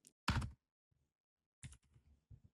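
Keys on a computer keyboard are typed in short bursts, one dense loud flurry then a few lighter clicks and a final small cluster, close by with quiet gaps between and no talk.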